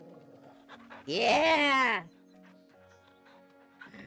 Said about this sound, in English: Such a good puppy.